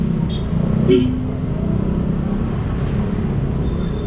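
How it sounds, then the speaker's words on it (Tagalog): Steady road traffic with many vehicles on a Sunday, a low continuous rumble of engines and tires close by, with faint voices talking over it. "Ang daming sasakyan ngayon."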